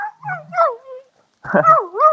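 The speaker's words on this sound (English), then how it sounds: "Dog making weird noises at me." A dog whimpers and yips in rising and falling whiny tones, two bursts of wavering vocal noises close by with a short pause between.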